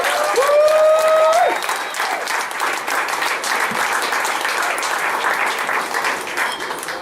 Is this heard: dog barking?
no